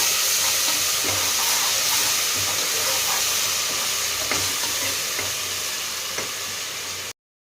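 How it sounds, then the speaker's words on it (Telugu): A gravy of garlic, ginger and tomato fries in oil in a pan with loud, steady close-up sizzling and hissing, plus the occasional stir, before it cuts off abruptly. "ఇది ఆయిల్ తేలే వరకు అయితే బాగా వేసుకోండి."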